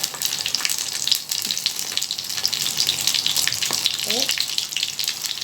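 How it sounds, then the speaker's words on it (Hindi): Stuffed masala brinjals frying in hot oil, a loud crackling sizzle that runs throughout with brief clatters and a faint voice in the background. "इस तरह इसको फ्राई करते हैं। एक साइड पे फ्राई करके फिर दूसरी साइड"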